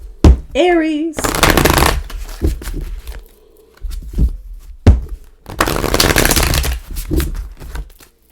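A deck of tarot cards is shuffled in two long riffling bursts, close and loud, with handling thumps between and a voice speaking briefly at the start.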